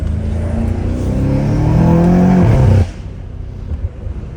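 A BMW M5 Competition with downpipes revs hard, its engine note climbing loud and close, then cuts off into a rapid spatter of exhaust pops and crackles as the revs fall away.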